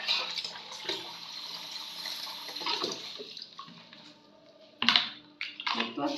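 Warm water is poured and splashed for a bath, coming in uneven gushes and trickles at close range, with a short quiet gap before a louder splash.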